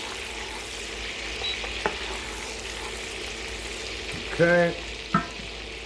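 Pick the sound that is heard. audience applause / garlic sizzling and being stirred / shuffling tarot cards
garlic sizzling and being stirred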